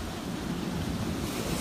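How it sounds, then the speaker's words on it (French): Ocean waves on a rising tide surge against a stranded aluminium boat at Sainte-Suzanne, a dense continuous roar of surf with wind noise buffeting the microphone, loud and close. "la marée est montante et les vagues viennent de plus en plus"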